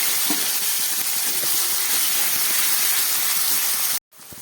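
Spices, two green chillies and cut potato sizzling in hot oil, a steady close hiss filling the whole stretch before it cuts off abruptly near the end, with faint clatter underneath.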